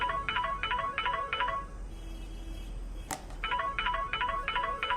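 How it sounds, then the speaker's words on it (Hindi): A mobile phone rings with a repeating electronic ringtone in short rhythmic bursts, pausing briefly midway and then resuming, clear and close in a quiet room. "मोबाइल बज उठा"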